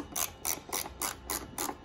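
A wrench ratchets on a bolt held in a vise, giving about six evenly spaced, crisp clicking bursts up close.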